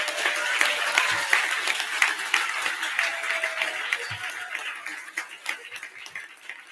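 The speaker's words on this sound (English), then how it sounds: "why don't we also give a big round of applause to all the teachers who are here with us today" A large ceremony audience applauds the teachers with steady, dense clapping at a middling distance that holds throughout, with faint chuckles mixed in.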